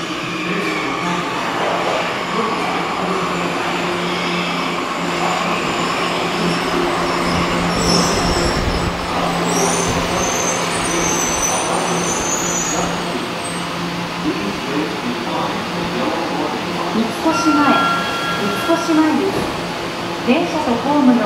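A Tokyo Metro Ginza Line 1000 series subway train rumbles steadily into Mitsukoshimae station with a broad roar of wheels and motors, while a voice announces over it and tones ring near the end.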